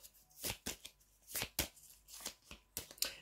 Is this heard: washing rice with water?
no